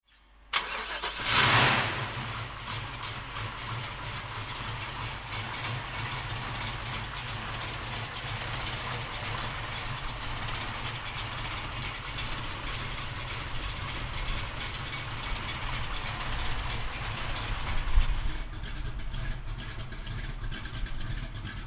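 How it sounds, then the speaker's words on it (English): A 1971 Chevrolet Camaro with an LS6 big block engine cranks and catches after a short starter whir, then settles into a steady, loud, rumbling idle that runs on close by. "So come on up and we're going to fire this big block up."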